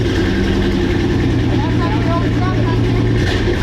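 A Chevy truck engine idles through a newly built exhaust with a deep, steady rumble, loud and close, with a faint higher whine riding on top.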